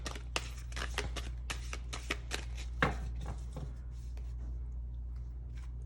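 Power of Love oracle cards being shuffled by hand, a run of quick, crisp papery slaps and riffles close up over a low steady hum, tapering off to near quiet at the end.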